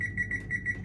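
A kitchen timer beeps while brownies bake, a run of short, evenly spaced electronic beeps repeating at a steady rhythm over a low background hum, fairly quiet and close.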